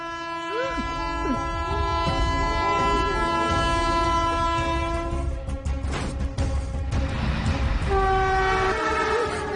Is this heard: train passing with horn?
yes